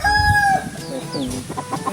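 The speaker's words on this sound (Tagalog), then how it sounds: "makakagulat naman yung mga manok." Chickens clucking and a rooster crowing close by at a rural spot, several short calls layered over each other with a brief burst of squawking, heard alone.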